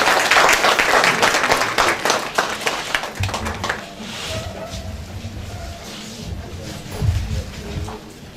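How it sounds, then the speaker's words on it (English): An audience applauds as a speaker is welcomed to the podium. Loud, dense clapping with distinct sharp claps fades into softer scattered clapping, and low rumbles and handling noise can be heard underneath. "Please give a round of applause welcoming Ms."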